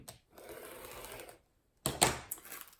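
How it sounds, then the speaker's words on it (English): Scissors cut the selvage edge off a length of fabric during applique prep: a steady rasping slide of blades through cloth, a pause, then a sharper, louder snip-and-slice close by. "come down here and we'll cut the salvage off of this end as well"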